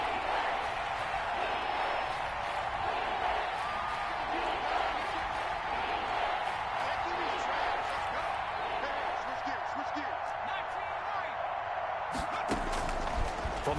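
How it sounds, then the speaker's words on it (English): A dense, steady roar of a large stadium crowd at an American football video game fills the background throughout, broadcast-style, with a few faint thumps and claps near the end. "This crowd urging on their defense."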